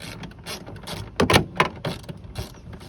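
A ratchet wrench tightens the taillight bolts on a 2012 Toyota Camry, making several quick close clicking bursts in an uneven rhythm, moderately loud with no speech.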